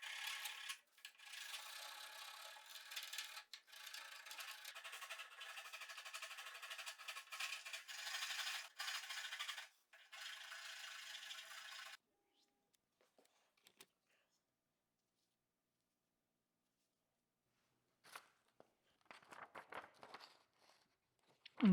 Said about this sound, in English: Started off with using a rasp to rough shape the handles as best I could.